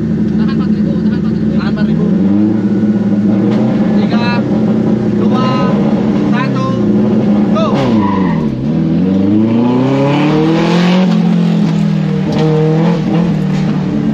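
Loud car engine revving hard at a slalom event, with a turbo car's note swooping up and down and tyres squealing through tight turns, people talking over it inside the car.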